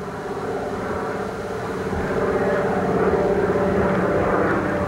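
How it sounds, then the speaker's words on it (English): A Beaver floatplane approaches overhead in the Canadian wilderness, its piston engine and propeller making a steady, loud droning hum that holds for the whole stretch and swells slightly toward the end. "With the drone overhead from the approaching beaver"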